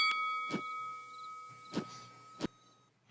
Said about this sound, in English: You can actually ring this bell.